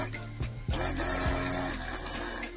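A homemade water pump driven by a 555 DC motor runs steadily, its whine blending with a continuous splash and gush of pumped water, loud and close throughout.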